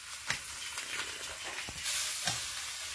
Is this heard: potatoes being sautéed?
yes